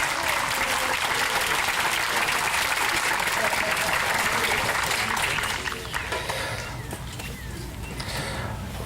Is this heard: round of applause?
yes